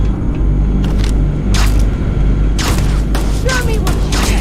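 Heavy gun blasts in the Starfield video game, a few loud booming shots spaced apart over a constant low engine-like rumble, with sharper reports clustering toward the end.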